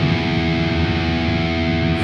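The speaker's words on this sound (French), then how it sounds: "cet intervalle que vous entendez, c'est vulgairement un triton" Distorted electric guitar holding a tritone interval, a dense, buzzing, sustained chord ringing steadily and loudly without a break.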